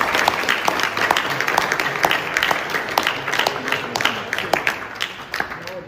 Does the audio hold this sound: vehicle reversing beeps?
no